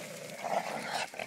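A young hunting dog growls close by during a hog hunt, a continuous rough, snarling rumble lasting just over a second.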